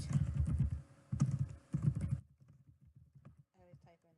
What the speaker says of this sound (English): I always type in the type of yarn used so I can remember it for later.